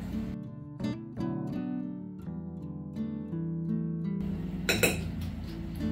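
Diced apples tossed with cinnamon and sugar in a bowl: a string of bright clinks and taps of a utensil against the dish, close and moderately loud, with a denser rattling stir near the end, no talking.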